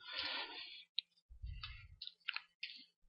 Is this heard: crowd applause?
no